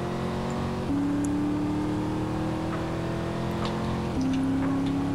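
A hovercraft with nitrous in GTA San Andreas drones loudly and continuously, its engine tone holding steady and then stepping up in pitch twice as the boost kicks in.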